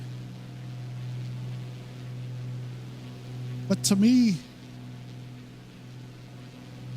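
The Carenado B55 piston engine in Microsoft Flight Simulator 2024 gives a steady, fairly quiet low drone throughout, with a brief whistling sweep in the middle, while someone talks over it.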